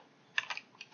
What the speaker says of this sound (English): type the command.